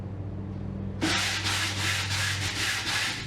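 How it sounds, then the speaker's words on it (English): A sanding block with 180-grit sandpaper scrapes back and forth over painted wood in quick, even strokes, starting abruptly after a second of quiet hum. "I want to go ahead with a sanding block and smooth out that grain"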